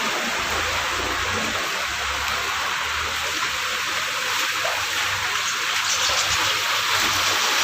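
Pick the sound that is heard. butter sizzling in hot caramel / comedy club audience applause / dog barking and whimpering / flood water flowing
flood water flowing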